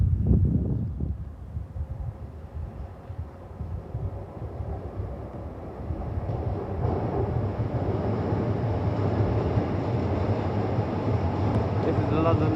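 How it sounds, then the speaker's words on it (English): A London Overground electric train running to Watford Junction approaches from a distance near Primrose Hill, a low rumble building steadily louder under gusty wind buffeting the microphone. "the train that's coming towards us is the 1714 London Overground service to Watford Junction"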